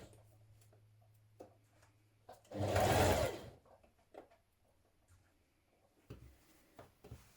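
Sewing machine stitching a shirt neckline facing in place: a single loud burst of rapid stitching lasting about a second, set between quiet handling clicks and light rustles.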